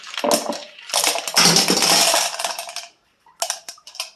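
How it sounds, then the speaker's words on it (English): Rinsed tumbled rocks are poured back into a rock tumbler barrel in a loud, rattling clatter of stones that stops, then a few separate clinks follow; nobody speaks. "Put them back in the barrel."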